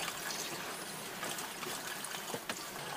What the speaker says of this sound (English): This morning the ocean is a bit boiling because of some leftover waves and some new wind waves.